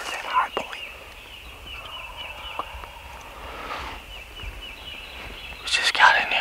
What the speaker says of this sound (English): there's a ton of turkeys gobbling